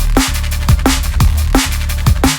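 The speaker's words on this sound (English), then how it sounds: "We have a very basic drum layout like this." A basic drum and bass drum loop repeats about four times in under three seconds, with loud booming kicks, snappy snare hits and steady hats driving a fast, dense groove, played alone without talking.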